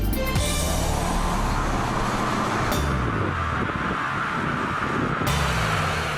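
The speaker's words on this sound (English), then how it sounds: "It's loud and fast, the BMW M3 convertible." A BMW M3 convertible drives loud and fast, its engine droning steadily and close throughout with shifting pitch and a couple of sharp bursts as it revs.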